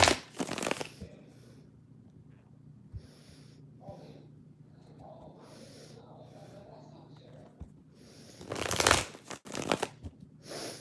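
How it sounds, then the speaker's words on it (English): Tarot cards being shuffled at a live reading, a brief riffling burst near the start and a louder one near the end, with quiet rustling and a voice speaking softly in between. "Let me just shuffle these here a sec."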